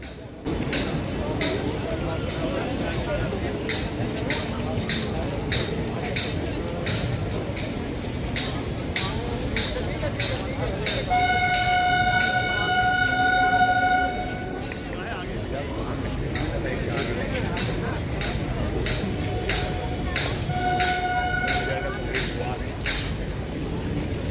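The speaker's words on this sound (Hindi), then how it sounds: "अब ट्रेन हमारी आ चुकी है, धनबाद डेयरी इंटरसिटी एक्सप्रेस" The Dhanbad intercity express pulls into a station amid a steady roar of platform crowd noise, with long tonal horn blasts sounding twice, midway and near the end.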